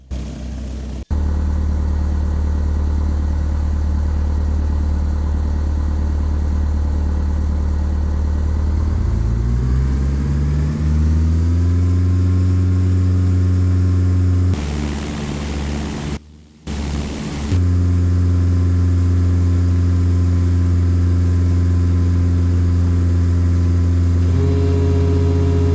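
A simulated light aircraft engine in Flight Simulator X drones loud and steady, climbing in pitch as power comes up for takeoff, with a brief dropout partway through and no voices.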